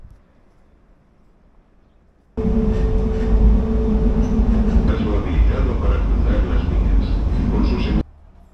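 After a quiet start, a loud interior rumble of a moving train in Spain begins abruptly, with rattling and a steady low roar until it cuts off.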